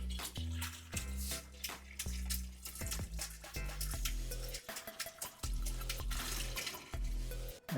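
Dark transmission fluid draining from a 2009 Range Rover into a pan, a steady pouring splash with gurgling surges and drips, close and continuous.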